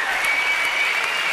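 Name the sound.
applause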